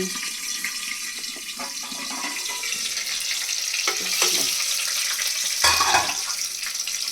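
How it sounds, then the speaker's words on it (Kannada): Green chilies spluttering in hot oil in a home kitchen pan, a steady close sizzle with sharp crackles and pops scattered through, louder bursts near the end, no talking. "ಮೆಣಸಿಕಾಯಿ ಸಿಡಿಯುತ್ತೆ ಅಂತ ಹೇಳಿದ್ರೆ ಮುಚ್ಚಿಬಿಡಿ"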